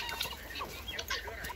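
Soft, scattered clucking from several chickens, fairly close, with low background noise and no talking.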